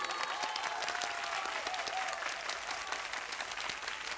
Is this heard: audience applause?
yes